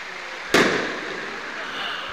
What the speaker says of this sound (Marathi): खरंच त्या ठिकाणी फटाक्यांची आताशबाजी होताना पाहायला मिळते